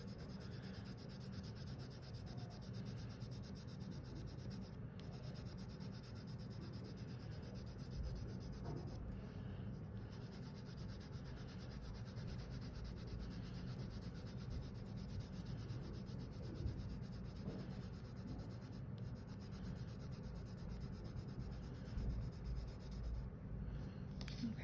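Colored pencil held flat and rubbed back and forth across paper, a soft continuous scratchy shading sound at close range, steady and unbroken throughout with no talking.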